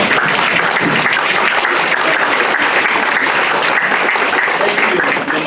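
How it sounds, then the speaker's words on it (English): Audience at an inaugural lecture applauds steadily and loudly, a dense, continuous wash of clapping that fills the hall from start to finish, with no voices standing out. "would you please clap for him?"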